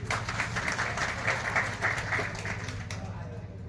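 An audience at a religious ceremony welcoming saints claps in a sustained, dense burst of applause from many hands, continuous and fairly loud before slowly fading.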